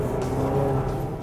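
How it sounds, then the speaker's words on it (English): A 2026 Chevy Traverse Z71 four-cylinder engine revs in a steady, loud, continuous drone with a low, buzzy tone, holding level throughout without any talk. "it sounds like a 4-cylinder engine in the body of a truck-like vehicle"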